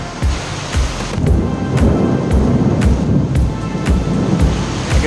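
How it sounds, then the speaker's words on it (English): Steady rain pours down with gusty wind buffeting the microphone, broken by repeated sharp crackling bursts. "We are getting some rain."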